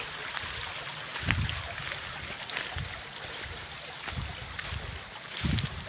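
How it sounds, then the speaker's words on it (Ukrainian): Water flowing on a river into an old abandoned watermill, a steady rushing wash with soft irregular knocks and splashes, fairly close and moderately quiet, with no voices. "Ось бачите, тече водичка в млин."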